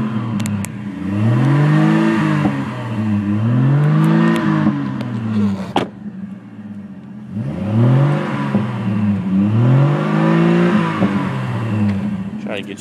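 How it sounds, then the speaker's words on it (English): Warm engine of a 2004 Chevrolet Trailblazer revved up and down close by, two long rising and falling sweeps separated by a brief dip back to idle. "Here's a quick little rev for you."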